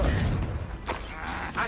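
A Confringo blasting spell goes off in a Harry Potter video game, a loud explosive burst followed by crackling blasts and rumbling debris over dense battle noise.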